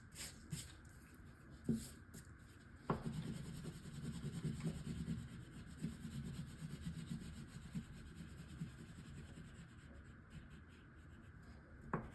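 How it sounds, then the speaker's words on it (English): Faint, steady rubbing and scraping as excess decoration material is wiped off a window for Halloween, with a few sharper scuffs near the start and a continuous soft friction texture throughout. "You might have excess, you can just rub it off."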